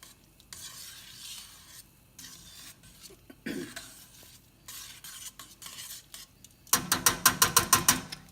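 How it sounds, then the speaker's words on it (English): A pan of osso buco is stirred to scrape up and mix in the browned, caramelized bits from the bottom, with soft scraping and a faint sizzle. Quick rattling strokes close it out. "Just want to stir, get that all nicely mixed in."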